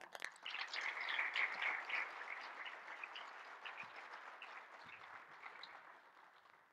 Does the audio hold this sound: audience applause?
yes